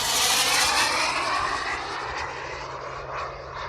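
A giant radio-controlled T-38 Talon scale jet roars past at full throttle on a high-speed pass, a loud broadband turbine rush that is strongest at first and then slowly fades as it recedes.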